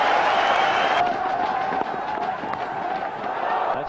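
A packed cricket stadium crowd at the 1996 World Cup match between West Indies and Australia roars and applauds as Brian Lara reaches fifty, a loud, continuous wash of cheering that eases slightly but never stops.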